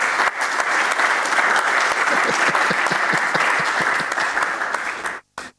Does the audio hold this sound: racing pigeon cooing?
no